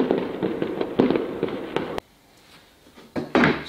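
Fireworks going off on New Year's Day, a string of sharp loud bangs and crackles in quick succession, then a brief lull before more bursts close by.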